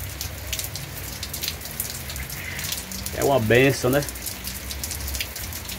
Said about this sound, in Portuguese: Muita chuva, galera.